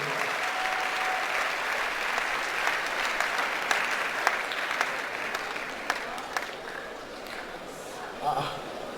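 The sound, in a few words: audience applauding a doctor at university orientation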